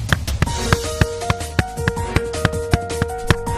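A voice imitates a car engine knocking with a rapid, rhythmic 'tacataca' run of clicking, tapping mouth sounds, close and fairly loud.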